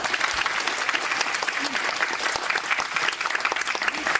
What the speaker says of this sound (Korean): 그리고 더 웨이브 클립 서비스에도 박수 부탁드립니다.